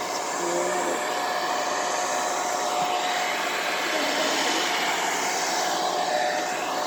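A heat tool on low heat blows air across freshly poured acrylic paint to spread it, producing a steady, loud rushing whoosh that continues unbroken throughout, close by and with no talking.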